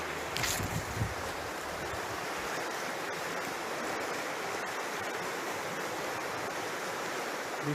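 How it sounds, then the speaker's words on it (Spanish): Broad, steady rushing of a strong river current along a smugglers' crossing route, a continuous wash of water noise with a brief brighter splash near the start, no voices. "va a salir a la correntera, se lo lleva al río"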